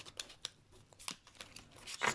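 A deck of tarot cards being shuffled gives soft, brief riffling and rustling bursts at close range, uneven and quiet.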